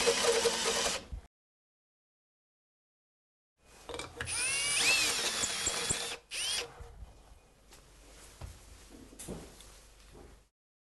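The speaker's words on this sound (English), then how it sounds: "I'm gonna put my shoulder right up against the butt of the drill and I'm gonna push really hard." A power drill with a step drill bit bores through a plastic end cap for a fermenter accessory, giving loud grinding whine in bursts separated by a silent pause, then tapering to quieter cutting.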